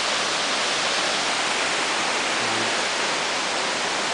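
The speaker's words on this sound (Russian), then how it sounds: "Водопад. Он течет." A waterfall pours steadily in a green, grassy outdoor spot, giving a loud, even rushing hiss that runs unbroken from start to end, with no voices over it.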